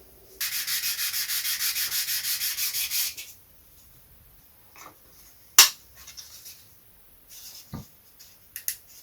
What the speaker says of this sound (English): Now we can sand all of this to perfection.